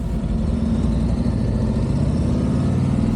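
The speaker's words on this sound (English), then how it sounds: "the Milwaukee 8, which is what this Electra Glide has. And I have to say, this is an amazing engine." Harley-Davidson Electra Glide with a Milwaukee 8 engine runs with a steady, loud, low throbbing rumble, close and uninterrupted for a few seconds.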